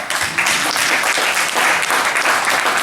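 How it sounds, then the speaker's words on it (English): Audience applause at a Liberian Independence Day celebration event in Zurich, a dense, steady burst of many hands clapping close and loud for about three seconds with no talk over it. "Mr. Joe, please give him a round of applause"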